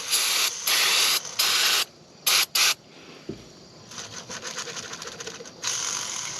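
A can of brake cleaner sprays in bursts: several loud hissing blasts of varying length, then a gap and a softer, longer spray near the end, close by.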